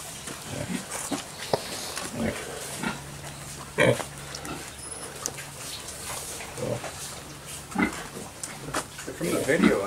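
Pigs in a piggery grunting and snuffling in scattered short bursts, with people talking throughout, a steady low hum and occasional clanks and knocks nearby.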